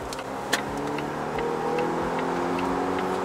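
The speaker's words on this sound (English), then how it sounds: "Let me just show you the acceleration rate in the car." Cabin of a 2018 Volvo XC60 T8 Inscription Plus hybrid under hard acceleration, a steady low drivetrain hum and road roar that builds slightly, with a brief knock near the start and faint ticking over it.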